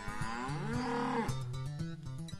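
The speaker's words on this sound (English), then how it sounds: "Green pastures lined with Black Angus cattle." A Black Angus cow on Maryland pasture farmland lets out one long, loud, close moo that swells and falls over about a second, with some rustling and a faint low hum around it and no voices.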